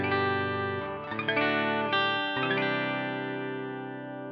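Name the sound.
electric guitar clean channel through amp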